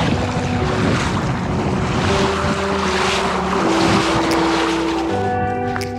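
An adventure motorcycle pushes through deep water over a soft bottom: a loud, steady engine drone with churning splashes and gusty wind noise runs through the whole stretch, with no talking.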